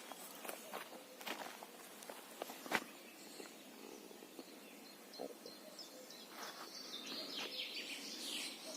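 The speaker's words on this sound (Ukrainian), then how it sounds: "Пташки співають травень місяць, весна." Small birds chirp and trill in the distance in a May spring forest, rising toward the end, while footsteps crunch intermittently nearby on a quiet woodland path.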